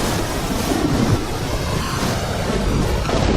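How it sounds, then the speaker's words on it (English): Cyclone wind roars through a town alongside crashing surf, a dense, loud, continuous rush of noise with gusty swells and no voices. "The wind tears through town."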